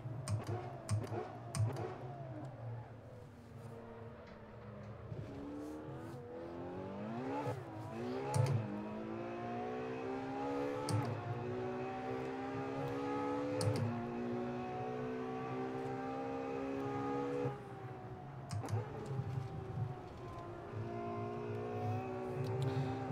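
A Ferrari 812 V12 in the racing simulator Assetto Corsa revs and climbs through the gears, its engine note rising in long sweeps, dropping at each shift, with occasional clicks from controls.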